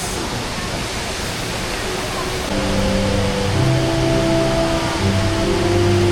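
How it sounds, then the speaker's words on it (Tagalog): The indoor waterfall at Changi Airport in Singapore gives a dense, steady roar of falling water that fills the space, with a low hum and faint voices joining partway through. "Tapos nakarating kami dito. Sa waterfalls."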